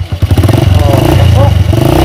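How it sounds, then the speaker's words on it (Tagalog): A motorcycle engine catches on one click of the starter and runs loud and close with a rough, pulsing rhythm. A voice speaks over the engine. "Napakadaling paandarin po ng motor na yan"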